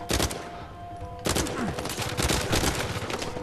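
Gunfire in the video game Uncharted 4 comes as rapid, loud, close bursts of shots that crackle almost without pause, with a short lull before another heavy volley.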